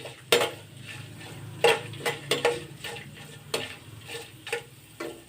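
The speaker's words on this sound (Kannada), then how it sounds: "ಸ್ವಲ್ಪ ಸಾಸಿವೆ ಚಟಪಟ ಅಂತ ಬರಬೇಕು." Mustard seeds, peanuts, chana dal, moong dal and curry leaves frying in oil, a faint sizzle punctuated by sharp scattered clicks and taps of a spoon against the pan, close and without talk.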